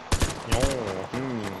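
Gunfire in the online shooter game Vigor: four sharp, loud shots in two quick pairs, followed by a person talking over a lingering sustained tone.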